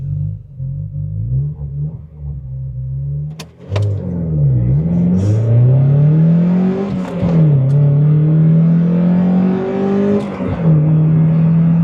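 A retro car with sport tyres accelerating hard from standstill on a 0-60 run on a dry road, loud engine idling then revving up through the gears with rising pitch and brief dips at shifts, heard from inside.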